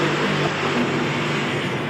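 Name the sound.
two electric motors of a cement brick making machine running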